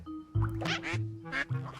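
Duck quacking from the video game Dark Riddle: several loud, close quacks in quick succession over a steady tonal game background hum.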